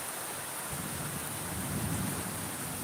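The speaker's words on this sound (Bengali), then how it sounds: "প্রচুর পরিমাণে বিদ্যুৎ চমকাচ্ছে" A thunderstorm with heavy rain and gusting wind: a dense, steady roar of rain, with a deep thunder rumble that swells near the middle and then fades.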